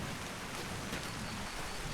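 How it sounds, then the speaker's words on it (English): Steady rainfall in the video game The Long Drive, a soft, even hiss of drops on surfaces with faint low rumble underneath, continuous and fairly quiet with no voices. "it's raining good right now"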